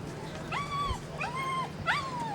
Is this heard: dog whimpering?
yes